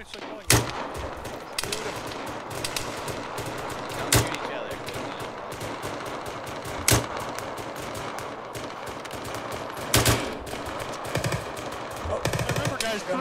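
Gunfire in the Arma 3 military shooter, with sharp shots and short bursts cracking loud and close every few seconds over a busy rumbling battle background, while voices talk underneath.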